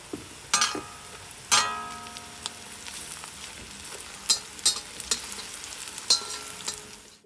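Chilies sizzle softly in hot oil in a pan while a utensil scrapes and clatters against it with a few sharp knocks.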